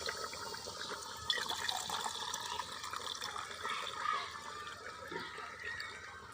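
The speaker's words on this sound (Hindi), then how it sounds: "अब इसमें हम पानी ऐड करेंगे।" Water is poured by the glassful into a cooking pot for Pakistani white chicken yakhni pulao, making a soft, continuous splashing and filling sound that is fairly faint and close, with no talk over it.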